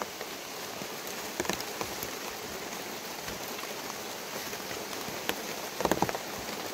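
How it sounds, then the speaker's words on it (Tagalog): Steady rain falls outdoors in an area with ferns and coconut trees, a soft continuous hiss with scattered drop clicks throughout and no voices. "Ang ulan-ulan pa."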